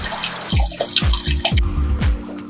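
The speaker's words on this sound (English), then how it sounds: "The force of the water is too high, so I want to bring that down." A homemade waterfall fountain pours strongly with a steady, loud splashing rush close by, broken by repeated drip-like plops at about half-second intervals.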